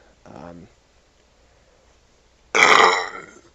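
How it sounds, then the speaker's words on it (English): A loud, raspy burp bursts out close to the mic after a short murmur and a pause, trailing off over about a second during a video game playthrough. "Burped up hot dogs."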